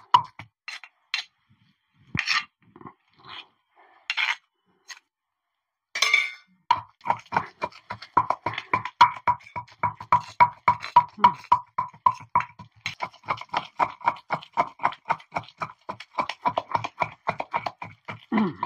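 An onion being pounded with ivy gourd in a stone mortar, a few scattered knocks at first, then a fast, steady run of sharp close thuds and grinding strikes that keeps going to the end.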